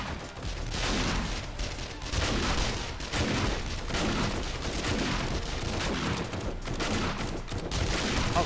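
Rapid gunfire against zombie hordes in the survival game 7 Days to Die: dense, continuous bursts of shots with no gaps, loud and close for the whole stretch.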